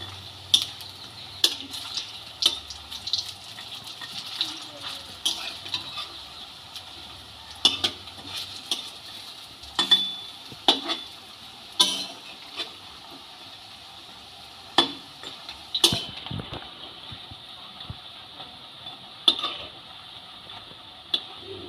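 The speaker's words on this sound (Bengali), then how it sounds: "বড়াগুলোকে এবার উল্টে দেবো গ্যাসটা একটু লো করে দিয়ে ভাজতে হবে" Soft frying sizzle of polta leaf fritters in oil over low gas, with repeated clinks and scrapes of a utensil against metal, no voices.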